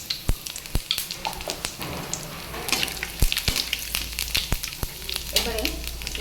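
Whole five-spice seeds crackle and sizzle in hot oil, with ginger already fried reddish, for a mixed five-vegetable vegetarian stir-fry; sharp pops and clicks sound close over a steady frying hiss, with no talk.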